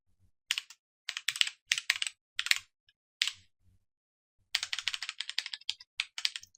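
Keystrokes clatter on a computer keyboard while code is typed, in short bursts of clicks separated by pauses and then a longer rapid run near the end, close and fairly loud with no talking.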